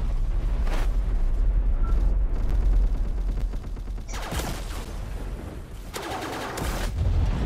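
Submachine gun fire in the Roblox game Base Battles, a Crytech Subshielder: long sustained automatic bursts roaring continuously, broken by a few heavier booming blasts, loud and close with no talking.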